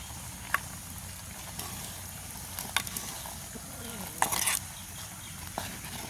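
A spoon scrapes and clinks against a clay pot of boiling curry with a few sharp knocks over a steady low hiss of simmering.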